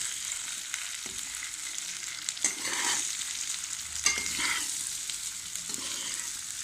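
Pickle ingredients fry in a pan over medium heat, a soft, steady sizzle broken by a few light scraping stirs with a utensil, close and fairly quiet with no talking.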